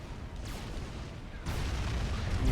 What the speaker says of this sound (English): You can see that AoE on their cannon. Really just destroying everything in its path.